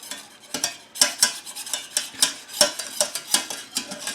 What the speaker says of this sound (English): I'll give this a little stir